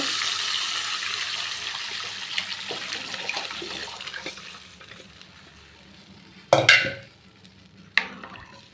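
Coconut milk is poured into a pot of rasam, giving a broad watery rush that fades, followed by two short sharp clatters from the pot near the end.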